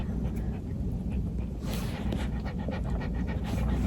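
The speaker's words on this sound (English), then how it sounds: "She's panting because she's in trouble." A dog in a small Jason shirt pants steadily and fairly close, a continuous rapid breathy rhythm over low rumbling background noise, with no talking.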